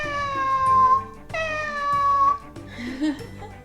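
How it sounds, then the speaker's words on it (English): A series of electronic cat meows and trills from a Little Live Pets toy cat, clear and close, coming in short repeated bursts with brief pauses between them. "When you remove your hand, I'll make happy sounds."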